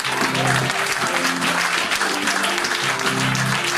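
A church congregation applauds steadily and loudly throughout, a dense continuous wash of clapping with a voice briefly audible beneath it.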